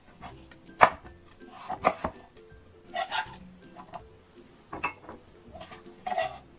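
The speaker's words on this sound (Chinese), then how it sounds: "切成薄片。" A knife cutting peeled pumpkin into thin slices on a board, with several distinct, crisp chopping knocks at uneven intervals separated by quiet gaps.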